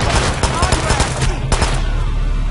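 A rapid burst of sharp gunfire in Hitman: Absolution, several quick shots in succession, loud and close, fading into a quieter tail.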